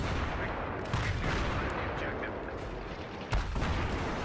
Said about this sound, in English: Tank slugs, RPG rounds going backwards and forwards.